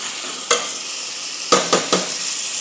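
Vegetables stirred in a hot pan over a steady frying sizzle, with a few sharp scrapes of the spoon spaced out near the start and end, close and fairly loud.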